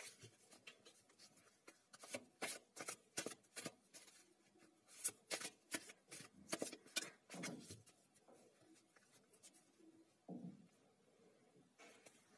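Tarot cards are shuffled close up, a series of soft, quick riffling and sliding bursts in an irregular rhythm, fairly faint.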